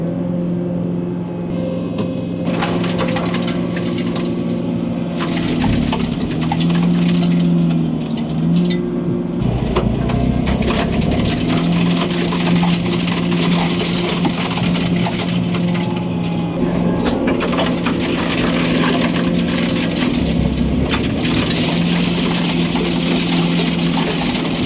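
Snow tractor with a freshly unclogged snow blower clearing snow, a steady close engine drone with crunching and churning of snow throughout, rising and surging at moments, with no talk.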